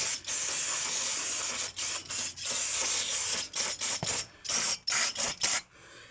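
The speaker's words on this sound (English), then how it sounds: "Now I'm going to grab my brake cleaner" Brake cleaner sprays in loud, close hissing bursts onto the front brake hub of a Toyota Prius, one long blast followed by a string of short rapid squirts.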